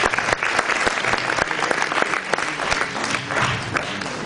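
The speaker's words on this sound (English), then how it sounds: "we can applaud her." Audience applause at a film screening in the European Parliament, dense continuous clapping from a crowd throughout, fairly loud and unaccompanied by speech.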